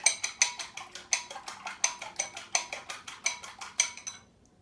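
A utensil whisks vanilla extract into egg in a bowl while making chocolate cookies, giving a quick, steady run of clinking taps against the bowl at close range before it stops abruptly.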